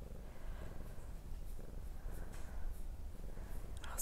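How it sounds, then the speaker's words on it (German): A cat purrs steadily and softly in a quiet, secluded nature retreat in Brazil, a low continuous rumble with faint background ambience and no talking. "dieses Knurren der Katze, das beruhigt voll."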